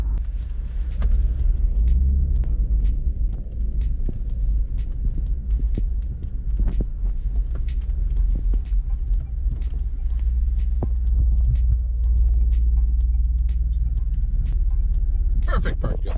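A Jeep drives on the road with a loud, continuous low engine and road rumble throbbing from inside the cabin, while a person talks over it at times.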